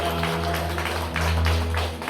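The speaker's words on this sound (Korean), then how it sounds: "우리 박수로 환영하겠습니다." A church congregation applauds to welcome a member, a steady wash of many clapping hands over a low electrical hum, continuous and fairly loud with no speech.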